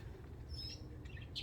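Outdoor budgies give a few faint, brief chirps and tweets over a low background rumble, with no talking.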